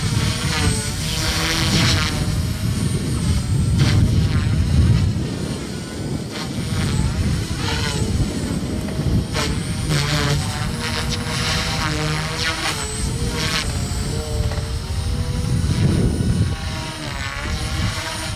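A T-REX 300X radio-controlled model helicopter flies close by with a loud, continuous whining rotor and motor drone that wavers in pitch as it manoeuvres.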